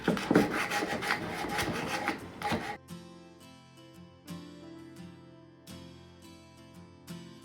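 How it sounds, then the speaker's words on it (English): Sandpaper rubs briskly against the wooden legs of a thrifted furniture piece, a dense scratchy rasp at first that gives way to quieter intermittent strokes and clicks. "Now that this is dry, I'd like to just kind of sand the legs a little."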